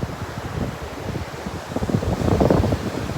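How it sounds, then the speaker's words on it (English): Steady wind blowing across a beach, rushing and buffeting close to the microphone with a low rumbling roar that swells stronger near the end, no voices. "Is the wind not too loud today?"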